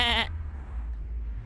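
A sheep bleats once in a comedy film scene, a short, wavering, nasal cry at the start that cuts off abruptly, leaving a low background rumble.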